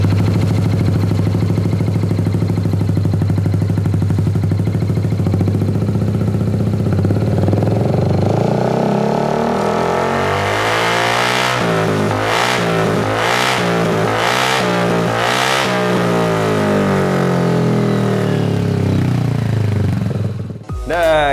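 Yamaha XMAX scooter with a modified aftermarket exhaust, steady low idle for several seconds, then a series of rising and falling revs, loud and close, ending with a brief cutoff.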